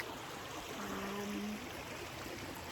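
A stream flows on a woodland walk, a steady close wash of running water that fills the scene evenly with no talking.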